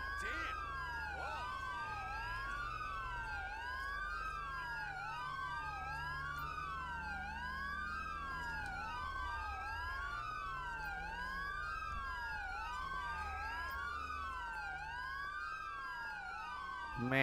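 Several police sirens in the video game GTA 5 wail continuously at once, overlapping rising and falling tones with a low vehicle rumble underneath, loud and sustained throughout.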